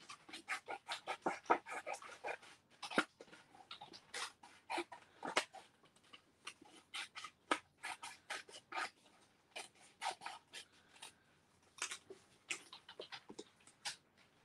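Scissors cut the middle out of scrapbooking photo mats, giving a close, busy run of rasping snips and paper rustles in quick irregular bursts with short pauses, with no talking.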